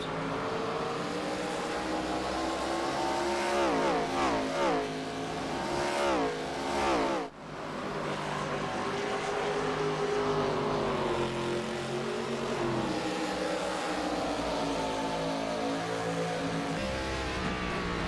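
Pro Cup Series race cars tearing around the Richmond oval, engines roaring loud and close with rising and falling pitch sweeps as cars pass and shift, a dense continuous motor drone with a brief dip midway.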